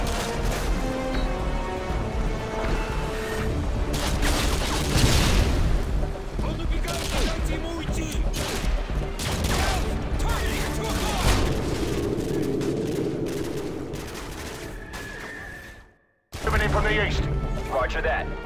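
Heavy gunfire and explosive blasts in the video game Call of Duty Modern Warfare 2, with L-86 machine guns, 240s and RPGs firing from a dining room window. Sustained rattling bursts and booms continue throughout under occasional voices, with a brief silence near the end.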